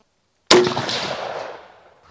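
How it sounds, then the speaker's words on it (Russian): A single loud rifle shot, .308 Win or 6.5 Creedmoor, cracks close by and trails off in a fading echo over about a second and a half. "Так, я готов. Еще один выстрел."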